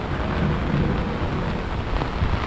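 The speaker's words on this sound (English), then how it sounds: "this is New York City in the rain, in a storm, with an umbrella that barely is doing the job right now" Heavy rain pours in a New York City thunderstorm with wind. The dense, loud rush of rain is constant, with low thunder rumbling underneath and water spattering on an umbrella close by.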